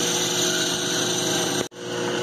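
An Atlas/Craftsman lathe driven by a converted treadmill motor turns slowly in back gear at about 4 RPM, giving off a steady motor whine and hum that cuts out briefly near the end before returning.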